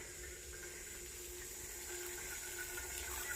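Steady hiss of running water, like a tap left on, continuous and fairly quiet throughout.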